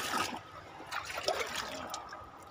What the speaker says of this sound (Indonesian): Ini kita pakai airnya saja untuk pemupukan